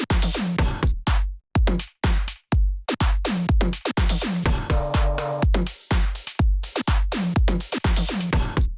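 Simple electronic bass house drum pattern with ghost notes, a heavy kick, claps and percussion looping in a tight, steady groove, with a brief tonal fill in the middle.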